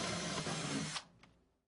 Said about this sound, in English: we'll go ahead and begin to drill our pilot holes